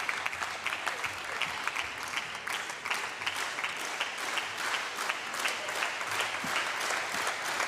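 Home crowd applause at a table tennis match in the ETTU Champions League Final Four, Tarnobrzeg against Metz: steady, dense clapping that fills the whole stretch at even loudness, with no talk over it.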